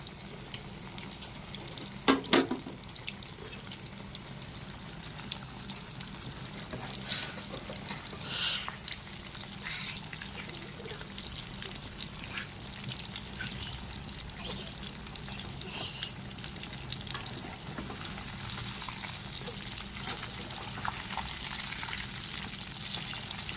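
Chilli chicken pieces fry in hot oil with a continuous soft crackling sizzle, fairly quiet and steady throughout, broken by a few brief clinks and stirring sounds near the start.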